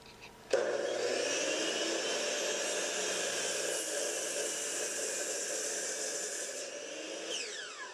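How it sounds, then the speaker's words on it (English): A miter saw squares the ends of a wooden board for a sign, spinning up abruptly into a loud steady whine that holds for several seconds before winding down, with no talking. "To square up the ends, I'm using my miter's saw."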